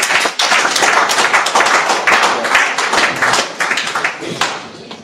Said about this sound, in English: A good round of applause for His Excellency.